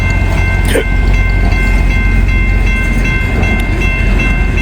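A coal train rumbles past, a loud, steady low-frequency roar with rail clatter and faint high squeals running through the whole stretch, no voices.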